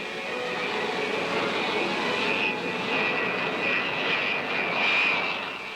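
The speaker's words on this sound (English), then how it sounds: "Starting the big ship and throttling her to a smooth idle will be a second nature operation." Boeing B-47 Stratojet jet engines turning over and settling into idle, a steady loud whining roar with a high tonal whine that swells slightly near the end, no voices.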